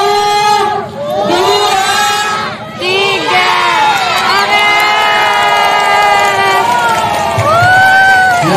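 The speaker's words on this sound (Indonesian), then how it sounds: "Hitungan ketiga sama-sama kita lepas dan sambil bilang hore dan tepuk tangan." Children at a school balloon release for new pupils cheer and shout together in a loud, sustained crowd roar of high voices that dips briefly twice, then swells again; clapping is not clearly distinct under the shouting.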